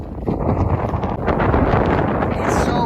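Loud, strong wind buffets the microphone in a continuous roar, with gusts and rustling throughout, at Paint Mines Interpretive Park, Colorado.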